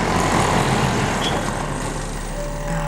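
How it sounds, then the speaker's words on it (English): Heavy street traffic in Bangalore rumbles steadily, with lorries and cars streaming past in a loud, continuous low roar and a brief high hiss like an air brake partway through. "There's cars, lorries, auto rickshaws, bullock carts all streaming past, and traffic is absolutely crazy."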